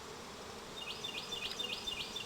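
Honey bees buzz around a nucleus hive box, a faint thin drone with several rising high whines as individual bees pass close, over a low steady background hum.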